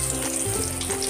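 Brinjal pieces sizzling in hot oil in a frying pan for curd brinjal, a loud, steady, close crackle with a faint low hum underneath and no talking.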